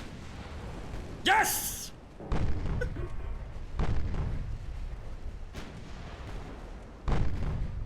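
A torpedo strikes a ship in the naval battle game Ultimate Admiral: Dreadnoughts, with several deep booming thuds through the stretch and someone shouting excitedly over them.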